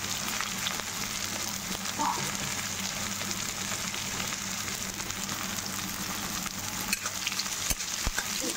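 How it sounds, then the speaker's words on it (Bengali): Onion fries in a pan for a thin chicken curry, a steady close sizzle with crackling pops and an occasional sharper spatter, continuing evenly throughout with no voices. "পেঁয়াজটা একটু ভাজা ভাজা করে নিতে হবে"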